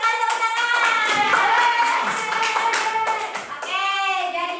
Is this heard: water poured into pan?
no